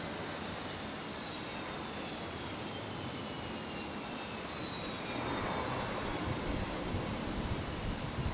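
A jet airliner taxis at Brisbane International Airport toward runway 01 right, its engines giving a continuous distant whine and roar with a slowly falling tone that grows slightly louder toward the end.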